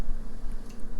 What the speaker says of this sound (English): Now we're going to add our tomato sauce.